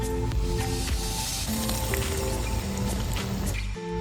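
Potatoes and chicken for chicken kosha fry in a hot pan with a steady, close hiss of sizzling oil, continuous throughout and partly under background music.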